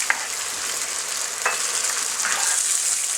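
Chicken rogan josh sizzles steadily in a pan just after yogurt goes in, a close, continuous hiss broken by a few short stirring scrapes.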